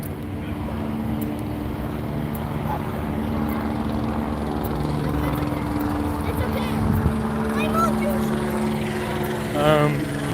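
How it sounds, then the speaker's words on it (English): A helicopter flies overhead with a continuous rotor and engine drone, loud and steady throughout with a slight swell near the end, heard outdoors on a run. "that chopper. You see him? There he is."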